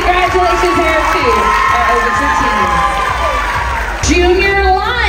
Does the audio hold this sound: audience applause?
yes